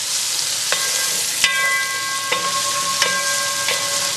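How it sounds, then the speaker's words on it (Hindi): 200 grams of chopped onion frying in a pan for Rajasthani arbi sabzi, a loud even hiss of sizzling oil with a few ringing metallic scrapes of a spoon against the pan, close and without talk. "इसे साथ में भूनेंगे"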